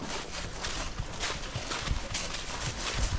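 Bay roan Quarter Horse walking on a trail ride, steady clip-clop of hooves on dirt with rhythmic footfalls, fairly close over outdoor background noise.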